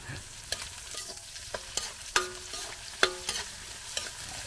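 Onion, garlic and ginger sautéing in a pan for a farm-style banana heart and sand shrimp dish: a steady soft sizzle with repeated stirring scrapes and light utensil clinks, close by, with no talk.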